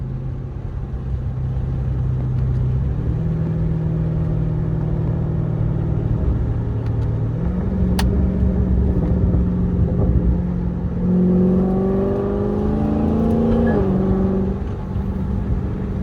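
A Chrysler 300 with a swapped-in Scat Pack engine rumbles steadily from inside the cabin, its engine note stepping up in pitch a few times as the car downshifts, ending in a throatier rising growl.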